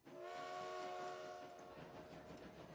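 A passenger train in the railway game Transport Fever sounds a sustained, faint whistle or horn chord over the low rumble of rolling cars, with the tone fading away after about two seconds.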